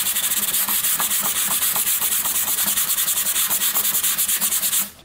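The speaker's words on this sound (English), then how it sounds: "sand away these lines where the Bondo ends and the wood begins" Bondo filler on wood being hand-sanded in a crosshatch pattern to feather the edges, making a close, continuous rasping scrub of fast rhythmic back-and-forth strokes that stops abruptly at the end.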